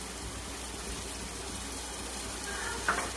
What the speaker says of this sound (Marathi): आता हे कांदा चांगला लाल भाजून घेऊ.